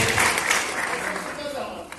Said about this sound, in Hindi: So big hand of applause for sir.